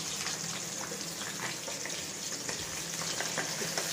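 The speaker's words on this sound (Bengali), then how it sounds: "মাছটা এখনও ভাজি, এখনও চালু আছে ভাজা" Steady, crackling sizzle of food frying in hot oil, a continuous dense hiss with faint clatters, no voices.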